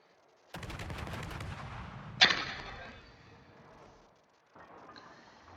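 Naval guns aboard the warship Sejong in World of Warships fire in a rapid rattling volley, then a sharp louder blast rings out and fades, followed by a quieter rumble.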